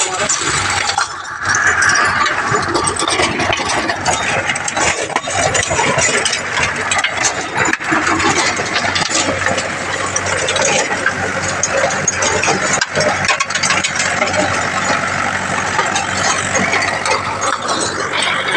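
A tractor engine drones nearby while a rotavator churns soil with rough, rattling mechanical clatter and occasional sharp knocks, continuous throughout.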